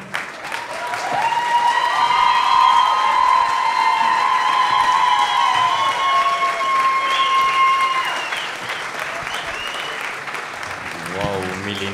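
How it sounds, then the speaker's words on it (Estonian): An audience at a school playback show applauds, a loud, sustained roar of clapping and cheering with a held tone over it that fades after about eight seconds, followed by quieter talk. "Ja aplaus ei vaibu."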